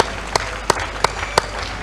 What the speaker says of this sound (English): Let's clap unto God and appreciate him.